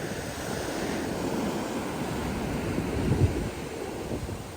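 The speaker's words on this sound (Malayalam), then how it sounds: "ഈ വരുന്നത് വലിയ തിരയാണ്." Sea waves at Alappuzha beach in Kerala wash in with a continuous broad roar, steady and close, swelling slightly midway, with wind buffeting the microphone.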